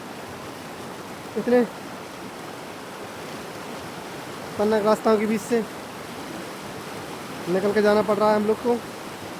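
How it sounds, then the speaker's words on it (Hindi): A fast-flowing river current in Palin, Arunachal rushes as a steady, loud broadband roar throughout, with someone speaking over it in short bursts. "नदी की धारा देख सकते हैं बहुत ही तेज है।"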